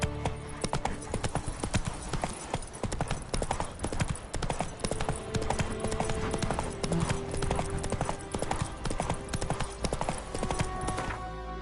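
Roach, Geralt's horse in The Witcher 3, clops along in a steady hoofbeat rhythm that runs unbroken from start to finish, loud and close, over a dense backdrop of game sound.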